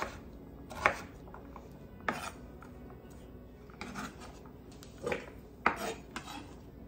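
A knife chops carrots into bite-sized pieces on a cutting board, with a handful of sharp, scattered knocks rising over a low kitchen background and no talk.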